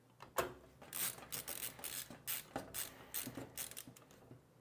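Close ratcheting clicks of a screwdriver driving a screw while building an InWin POC PC case, a rapid irregular run of small mechanical ticks and rattles with no talking.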